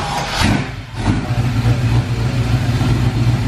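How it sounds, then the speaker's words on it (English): A 1972 Ford Torino V8 revs loudly through 3-inch exhaust pipes with Violator mufflers, a deep, steady throaty rumble that swells near the start and holds strong and close for several seconds. "It's got a 3-inch pipes exhaust with violator mufflers."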